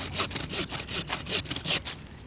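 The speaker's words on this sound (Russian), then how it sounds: "Теперь берем ножовку и отпиливаем вот так, оставляя вот эти небольшие маленькие побеги." A hand pruning saw rasps through a thick shrub branch during hard pruning of an ornamental bush, with a series of quick back-and-forth strokes, close and clear, with no voices.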